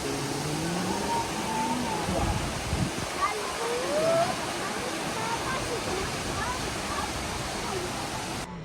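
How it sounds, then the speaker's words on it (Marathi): Multnomah Falls, a roughly 600-foot waterfall that drops in two tiers, roars as a steady, loud, broadband rush of falling water that fills the whole clip, with faint voices briefly audible beneath it. "मल्टनोमा वॉटरफॉल हा दोन टप्प्यांमध्ये वाहतो"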